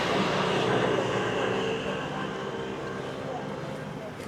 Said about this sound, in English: The taxi boat just going out now.